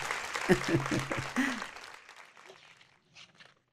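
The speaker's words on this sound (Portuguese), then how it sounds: "Sim, você pode bater palmas se quiser." Applause at a sermon by a preacher, a brief burst of clapping from the audience that starts loud and fades within a couple of seconds, with a voice speaking over it and faint sounds trailing after.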